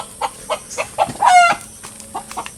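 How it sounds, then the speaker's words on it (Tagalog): A chicken clucks close by in short rhythmic bursts, rising into a longer squawk midway before settling back into clucks. "At may alaga kang manok."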